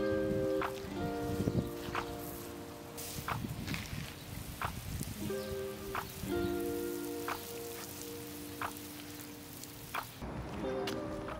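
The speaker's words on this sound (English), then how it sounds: "I watered the space before sowing the seeds so that they wouldn't float away." Water sprinkles steadily onto bare soil of a garden strip before gomphrena seeds are sown, a soft continuous patter with a few faint footsteps, while birds chirp repeatedly in the background.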